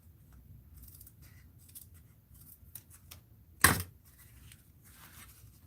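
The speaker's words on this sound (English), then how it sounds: "It seems like it should be trimmed a little bit more." Scissors trim the spine of a paper recipe art journal, one crisp loud snip close up amid faint rustling and quiet handling of paper.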